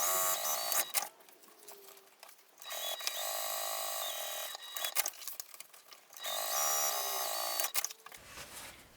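A sewing machine sews along the opened side seams of a handmade bag, running in long, steady, high-pitched mechanical bursts separated by short pauses and quieter handling.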